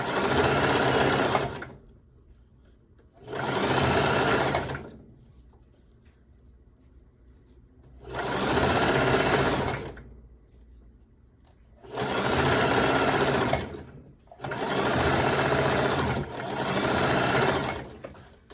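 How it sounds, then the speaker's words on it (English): A sewing machine stitches the side seam of a sequin skirt in five loud, steady bursts of running, each lasting a couple of seconds, separated by short pauses with near silence between them. "Now I'm going to sew the other end."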